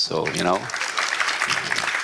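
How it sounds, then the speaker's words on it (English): Audience at a conference plenary session breaks into applause right after a brief spoken phrase, the clapping then carrying on as a steady, moderately loud patter. "Why don't we give them an applause?"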